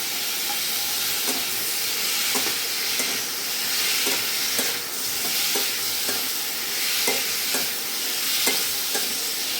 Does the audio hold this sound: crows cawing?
no